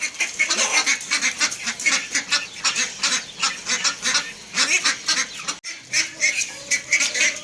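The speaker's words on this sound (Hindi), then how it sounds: "वो बतखें लड़ना शुरू हो गई हैं।" A dense, noisy flock of ducks quacking and honking over one another continuously, with agitated squabbling calls close by.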